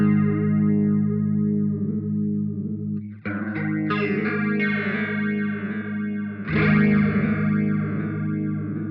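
Electric guitar run through a BOSS MD-500 modulation pedal, sustained droning chords thick with swirling modulation and distortion, with new strums entering partway through and again later, alone without talk.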